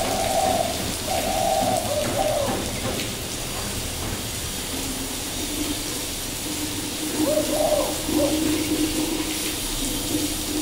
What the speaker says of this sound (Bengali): বাইরে কিন্তু প্রচুর পরিমাণে বৃষ্টি হচ্ছে।